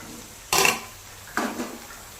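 Broccoli tipped into a pan of fried onions, two short bursts of clattering and sizzling about a second apart, close and clear over a quiet kitchen background.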